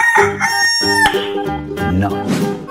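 A rooster crows loudly and close, in one long harmonic cock-a-doodle-doo with no talk over it, heard amid a lineup of barnyard and zoo animals.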